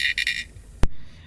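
A crab makes a cricket-like rasp: three quick, scratchy pulsed bursts, then a sharp click and a fainter trailing rasp, close and alone.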